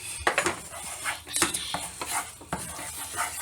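Ramen noodles with oregano are stirred in a pot, producing close metallic clinks and scrapes of a utensil against the pot in quick irregular bursts over a faint sizzle, with no talking.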